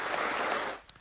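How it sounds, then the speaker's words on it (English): Applause from an audience at a Kenyan medal-award ceremony, a brief dense burst of clapping at moderate volume that fades out after about a second. "Clap for him."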